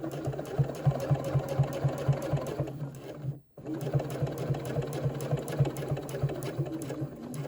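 A sewing machine runs steadily, top stitching a zipper pouch, its rapid needle rhythm loud and close, with a brief pause midway before stitching resumes at the same even pace.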